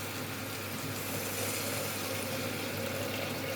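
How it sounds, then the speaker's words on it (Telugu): Water pouring steadily into a cooking pot in a home kitchen in Bhadrachalam, a continuous broadband wash that stays even and close throughout with no talk. "కొన్ని వాటర్ వేస్తున్నాను, అది సరిపోయేంత వాటర్ వేసి మూత పెట్టేద్దాం."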